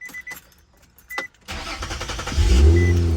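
A 2004 Infiniti G35X AWD with a newly replaced starter motor: a few faint clicks, then a brief loud crank that catches fast into a steady, rumbling idle, close by and with no talking.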